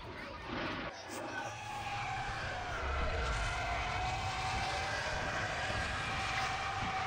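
Starfighters in the Star Wars Battlefront video game roar past in a continuous loud engine rush and whine, with rumbling battle noise and voices talking over it.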